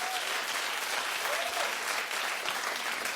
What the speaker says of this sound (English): Would you clap?